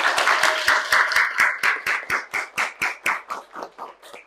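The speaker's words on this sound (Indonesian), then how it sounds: "tepuk tangan dong" An audience claps in a rhythmic, steady beat of about sixteen even claps, fairly close and loud, without talk, at the end of an Indonesian-language class session.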